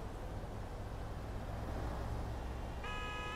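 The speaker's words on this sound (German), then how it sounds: "Was hupt der denn?" Car horn honking amid steady city traffic noise in Barcelona streets in the Taxi Life driving game, a short tonal toot near the end over a constant engine and road rumble, no talking.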